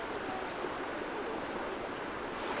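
Powerful karst spring water gushes out at Albania's Blue Eye, a dense, steady roar of rushing flow heard up close with no voices.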